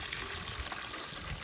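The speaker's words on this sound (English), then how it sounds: "You pour them with the nozzle at the top." Water flowing smoothly from the top nozzle of a giant jug onto ryegrass microgreens, a steady close trickling pour with no talking.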